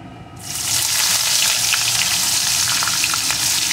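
Chopped onion drops into hot oil over dried red chilli tempering, bursting into a loud, steady sizzle after a brief quiet start, with crackling pops throughout while frying for a Shol fish dish with stalks.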